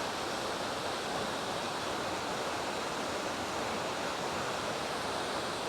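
A secret waterfall near Belfast pours into a basin, producing a steady, dense broadband rush that carries on unbroken at moderate distance, with no voices.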